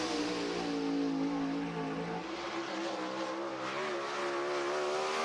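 A 410 sprint car on a time trial run at Cherokee Speedway, its engine a loud sustained high roar that holds on the throttle and shifts pitch slightly as it runs the lap, with no talk over it.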